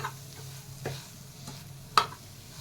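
Khoya roasting over a low flame in a pan, a soft continuous faint sizzle with scattered scraping stirs and one sharper clack of a spoon against the pan.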